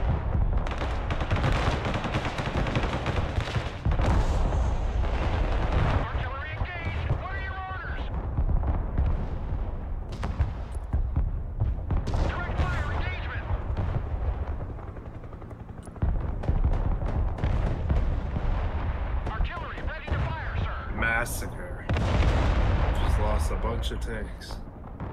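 Tank artillery and gunfire in the Broken Arrow war video game, repeated loud booms and rapid shots under players' chatter, with several dense volleys.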